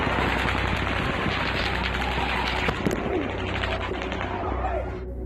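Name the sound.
recorded gunshots during a shooting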